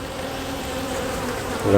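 Steady, dense buzzing of many agitated honeybees close by at an opened hive frame holding the queen, continuous throughout with a slightly louder surge at the end.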